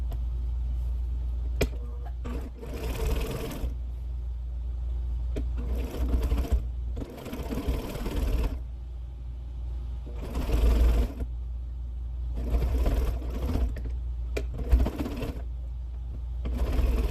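A sewing machine stitching the seams of a scrappy fabric string bag, its rapid mechanical whirring coming in several short bursts separated by pauses, with soft handling noises between runs.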